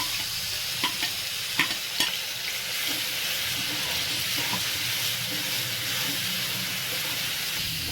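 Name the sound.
frying spice paste in hot oil while stirring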